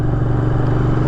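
A Moto Guzzi V7 II Racer motorcycle engine with an aftermarket exhaust rumbles loud and close, a deep steady throbbing idle or cruise with no talking.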